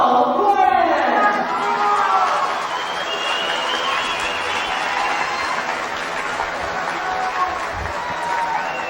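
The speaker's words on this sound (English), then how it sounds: "let's give him a big round of applause" Applause and crowd noise for a grand champion at a KAJUKENBO 50th anniversary martial arts tournament, a loud burst at first that settles into steady clapping with chatter underneath.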